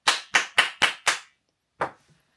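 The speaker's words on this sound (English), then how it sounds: "round of applause to us" Five quick, loud hand claps in a steady rhythm, then a pause and one final clap, close and alone in a quiet room.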